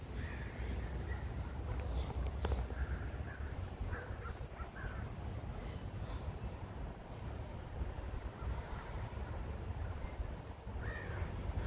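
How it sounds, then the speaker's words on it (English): Several crows caw from a tree outdoors at sundown, their calls scattered and moderately distant over a steady low rumble of wind or traffic. "Oh, here's a different birdie. Mama Crow got friends sometimes."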